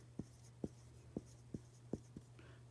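Pencil or pen on paper writing an answer by hand, six short quiet scratching strokes spaced about half a second apart over a faint steady hum, close and alone.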